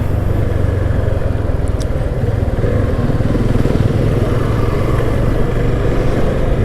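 A motorbike rides steadily through Hetauda, its engine a continuous close, loud drone with low throbbing and no pauses.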